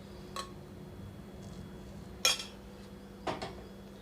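A spoon strikes a bowl while meal maker biryani marinade with thick curd is mixed, giving three sharp, quiet clinks spread apart over a soft, low background.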